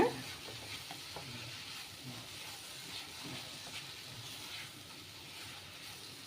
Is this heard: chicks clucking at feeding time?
no